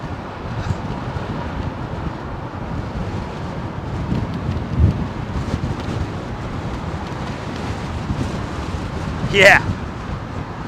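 Strong, gusty wind at Heathrow Airport roars steadily into the microphone as a blustery headwind with some crosswind, with a brief louder gust near the end and a short spoken word.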